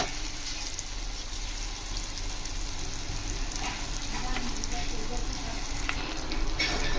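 Ground tomato chutney paste sizzles and fries in a pan as it is stirred, a steady crackling hiss with scraping stirs, close and continuous with no talk.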